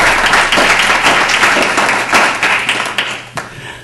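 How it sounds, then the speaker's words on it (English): Audience members at a school board meeting clap loudly for an honoree walking up, with dense applause that gradually thins into scattered individual claps. "You guys can clap if you want on his way up there."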